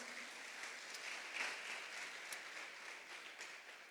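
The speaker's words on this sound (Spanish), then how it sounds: "Podemos darle un aplauso al Señor." Church congregation applauding in a steady, soft wash of clapping that holds evenly throughout and fades slightly at the end.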